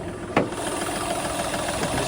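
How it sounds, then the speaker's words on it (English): A Skoda car engine idles steadily after a second-hand ECU was fitted, a close mid-pitched hum with a single sharp knock or click near the start. "Engine runs normally."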